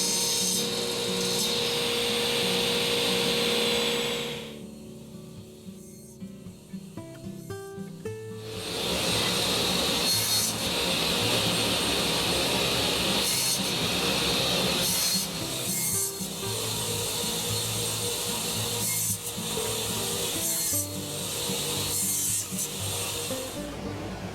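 A table saw cuts wood pieces held on a sled with a lockdown clamp for a segmented mosaic vase, a loud continuous rasping whine that briefly drops away, then returns and persists.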